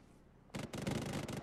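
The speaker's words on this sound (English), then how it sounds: "That sounds like AK-47 to me." AK-47 gunfire in the Arma 3 game heard faintly at a distance, a quiet ambience broken by a rapid burst of cracking shots that runs for about a second with no talking.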